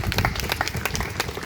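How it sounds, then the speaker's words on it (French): Brief burst of applause from an audience, dense and steady clapping at moderate distance over a short span. "on peut les applaudir pour leur engagement sans faille"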